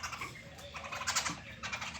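Sparrows on a farm field chirp in quick, bright bursts, several overlapping calls rising and falling at moderate volume over steady outdoor background noise, with no talking.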